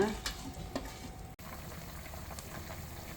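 A pot of spicy beef yukgaejang with taro stems, bracken and bean sprouts bubbles at a quiet, steady simmer, with soft gurgling and faint liquid movement.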